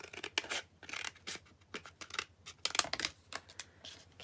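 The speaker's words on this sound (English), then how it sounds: "Snip this off because this is huge." Scissors snipping through handmade marbled paper while making a pocket: a brisk series of close, crisp cuts, about eight or nine snips in uneven rhythm, heard alone with no talk.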